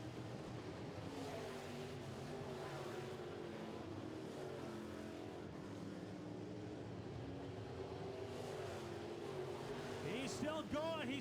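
Midwest Modified race cars circle a dirt oval track in a feature race, their engines a continuous loud roar with rising and falling revs as the cars pass, under a crowd-like wash and faint announcer talk.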